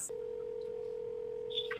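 A telephone call being dialed: one clear, steady electronic tone holds for nearly two seconds, followed by a short higher beep, fairly faint over a quiet background.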